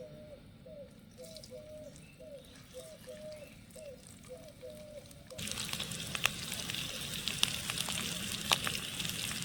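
Boiled potatoes, broken into pieces with spices, fry in a pan with a soft, steady sizzle that grows louder partway through. A pigeon coos faintly in the background during the first half.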